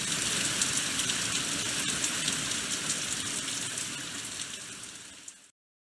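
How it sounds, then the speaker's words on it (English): A steady hiss of falling rain, close and even, that fades away toward the end before cutting to silence. "It is raining today."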